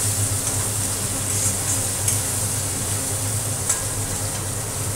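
Garlic and ginger frying in a pan, a steady, dense sizzle that runs unbroken throughout with a few faint ticks and clicks of stirring on top.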